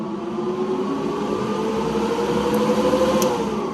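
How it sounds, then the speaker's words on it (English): An airbrush spray booth extractor fan, which pulls paint particles into a rear filter, runs with a steady, close whirring hum and a faint tonal whine, constant and even with no talk. "this contraption here is basically like an airbrush station that ends up sucking the particles into this filter back here."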